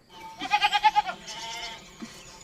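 A goat gives one loud, wavering, tremulous bleat up close, then a shorter, fainter call follows after a brief pause.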